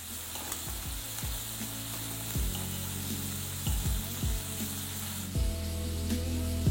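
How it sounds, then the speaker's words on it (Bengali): Prawns frying in hot oil over a high flame, a loud, continuous close sizzle with occasional shifts and stirring sounds as the pieces move in the pan. "তারপর হাই ফ্লেমে এটাকে একবার ভালো করে ভেজে নেব।"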